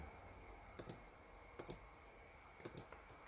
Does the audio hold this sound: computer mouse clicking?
yes